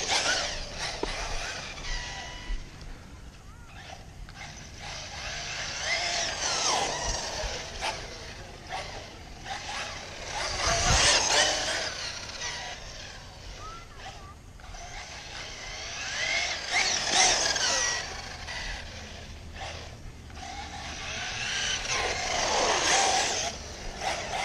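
A 6S Arrma Outcast RC car fitted with SRC Terrain Crusher tires whines along a street, its motor rising and falling in repeated surges over 24 seconds, loud and close, with brief tire-scrub bursts during slides and no talking.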